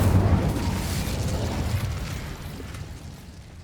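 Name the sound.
Incendio fire spell in Hogwarts Legacy video game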